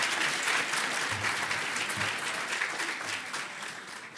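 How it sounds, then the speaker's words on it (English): A hall full of people clapps steadily at a physical therapy graduation ceremony, the applause loud and dense at first, then easing off gradually over a few seconds. "and maybe another round of applause for those unbuttoning the jackets back here."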